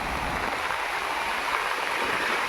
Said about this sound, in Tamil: இன்னும் மழை விடலை.